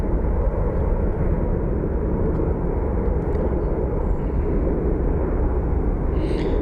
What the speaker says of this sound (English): We actually may get a really cool shot of the FedEx 767 taxiing over here.